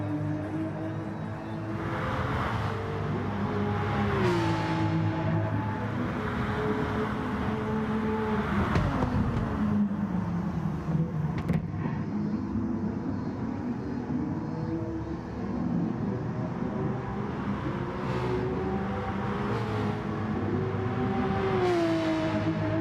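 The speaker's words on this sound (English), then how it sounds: "You can see some of the other cars going around." Racing cars lapping a track in a racing video game during a charity race event, their engines droning steadily with rising and falling revs as they pass, continuous and fairly loud with no talking.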